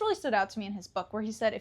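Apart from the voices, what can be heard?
None of the usual background noises is heard.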